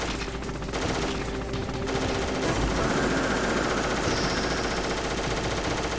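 Rapid gunfire from the Metal Gear Solid video game, bursts of shots layered over a dense, loud game soundscape with no talk.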